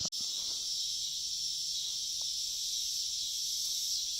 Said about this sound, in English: the cicadas are really loud at this hour